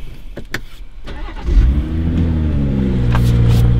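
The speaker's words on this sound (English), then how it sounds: "So let me just turn the car on here." A BMW 1 Series engine starting: a few clicks, then the starter cranks and the engine catches with a loud flare of revs, settling into a steady, close idle.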